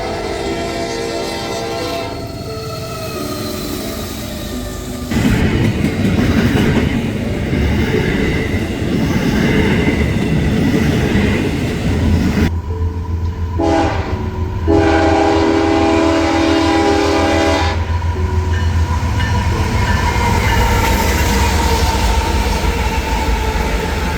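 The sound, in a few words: eastbound intermodal freight trains passing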